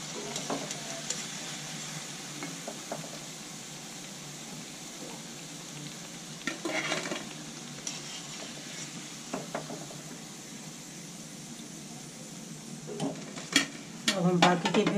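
Pakoras for kadhi sizzle steadily in hot oil throughout, close and continuous, with occasional stirring scrapes and utensil clinks growing busier toward the end.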